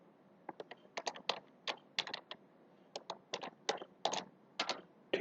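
Computer keyboard typing while a line of C code is entered in a beginner programming lesson, heard as irregular bursts of close, crisp keystrokes spread across the clip with no talking.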